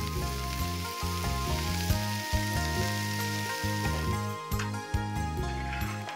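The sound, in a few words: oil poured into a pan over low heat, sizzling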